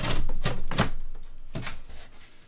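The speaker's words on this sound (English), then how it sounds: "So I cut off one panel of the box." Knife slicing through a cardboard shipping box for a baseball bat, a few sharp scraping cuts in quick succession, close and loud, with no talk.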